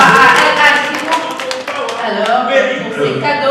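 Audience applause at a French spelling-champions event, a dense loud patter of many hands clapping at close range that thins slightly toward the end while a voice speaks over it.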